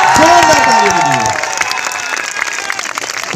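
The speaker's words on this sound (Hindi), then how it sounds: "एक बार आप सबके लिए जोरदार ताली दीजिए।" An audience breaks into loud applause after an opening burst of shouts and cheers, with dense clapping carrying on steadily to the end.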